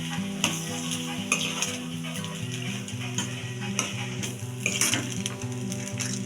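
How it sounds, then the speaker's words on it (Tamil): Cooked coriander rice stirred in a pan with a spoon, a steady scraping and soft sizzling close up, with occasional light clinks of utensil on metal throughout. "நல்லா கிளறி சாப்பாடை நல்லா கிளறி எடுத்துக்கணும்."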